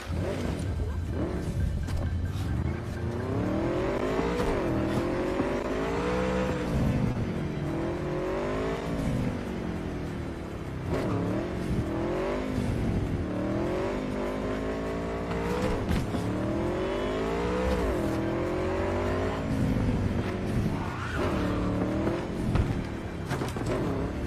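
A motorbike ridden in Cyberpunk 2077, its engine droning and revving continuously with rising and falling pitch sweeps as it accelerates and shifts, loud and close throughout with music or game sounds underneath.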